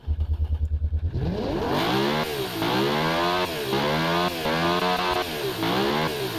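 New Aston Martin engine in a racing game, starting with a rapid idle pulse, then revving up in repeated rising sweeps with a loud, harmonic, buzzing tone.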